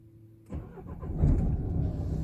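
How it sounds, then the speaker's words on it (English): A Nissan Qashqai engine cranks and catches after about half a second of quiet, then settles into a steady, close-up idle hum. "and the car will start."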